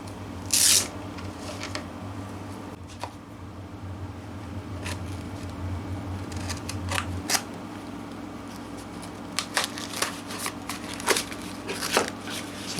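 Guitar string packaging being unwrapped: crinkly paper and plastic rustles with a few sharp crisp tears and crackles over a low steady hum, close and moderately loud, no talking.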